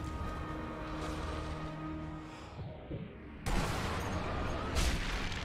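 Gunfire and booming shots in the World War II sniper game Sniper Elite V2, with rumbling blasts and a sudden loud burst partway through, heard fairly close over a dense background.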